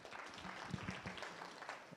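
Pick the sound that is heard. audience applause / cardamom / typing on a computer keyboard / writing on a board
audience applause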